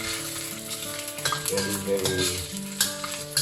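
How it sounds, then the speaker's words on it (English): Noodles frying in pork lard over a medium flame, a loud close sizzle broken by quick stirring and scraping; a brief word spoken faintly over it. "Just leave it, we fry it for around 5 minutes to be dry."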